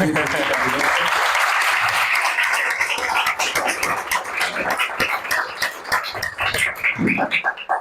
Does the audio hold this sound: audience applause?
yes